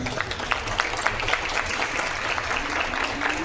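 Applause from an audience at a public event on gender violence, a steady dense patter of clapping held at moderate level for a few seconds, with a faint background tone underneath.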